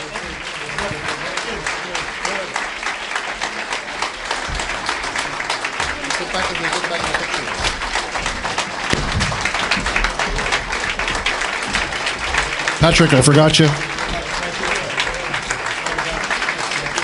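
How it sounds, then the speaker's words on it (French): Conference audience giving presenters a big hand: steady, sustained clapping from a crowd that swells briefly near the end, with someone speaking over it. "vous allez leur donner une très grande main d'applaudissements, s'il vous plaît"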